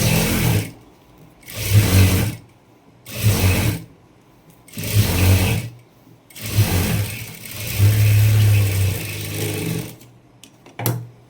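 Sewing machine stitching a double seam on a princess blouse sleeve, running in five or six loud mechanical bursts of a couple of seconds each with short pauses between, followed by a few brief clicks, and no talking.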